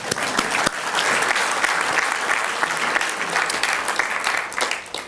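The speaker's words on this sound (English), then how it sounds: "you can clap. Thank you." Audience applause at a general assembly in Amsterdam, a sustained burst of clapping from a crowd that fills the room steadily for several seconds before tapering off.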